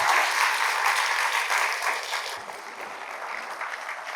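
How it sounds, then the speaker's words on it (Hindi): An audience at a numerology class applauds for Umesh as he is welcomed, with dense, close clapping that starts strong and gradually thins out. "जबरदस्त ताली यार उमेश के लिए।"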